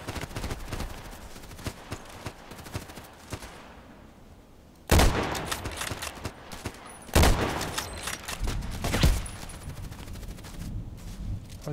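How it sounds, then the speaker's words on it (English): Gunfire in a shooter video game with an HK417 rifle: dense rattling bursts run throughout, broken by three loud, sharp shots near and up front. "Why is he shooting at me?"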